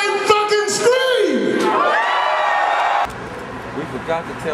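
Concert crowd at a funk show screams and cheers loudly, with whoops and shouted voices rising in a dense roar that drops to a lower, steady crowd noise partway through.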